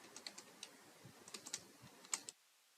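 A URL being typed on a computer keyboard, a quick irregular run of soft, close key clicks ending with a sharper pair of taps, then silence.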